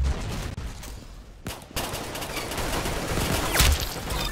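M16 rifle fire in Roblox Arsenal comes in rapid, loud bursts of gunshots, with a short pause mid-way before the shooting resumes and continues to the end.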